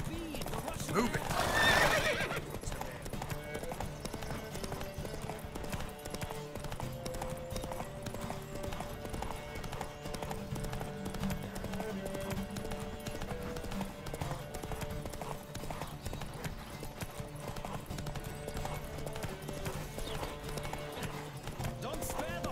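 A horse neighs loudly early on in The Witcher 3: Wild Hunt on PS5, then hooves clip-clop steadily at a gallop under a faint game music bed, with a voice talking over it.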